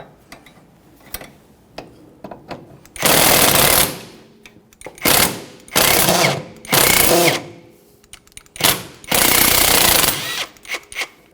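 Bursts of a power impact or ratchet tool loosening the 12mm mounting bolt on a front sway bar link of a 1994-1997 Honda Accord, several loud rattling runs of about a second each separated by quiet pauses and small clicks.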